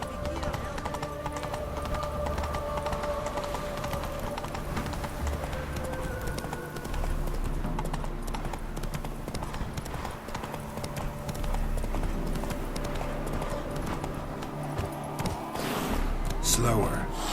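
Roach, the horse in The Witcher 3, gallops with continuous rhythmic clip-clop hoofbeats over a steady rumble of movement, close and prominent, with speech mixed in.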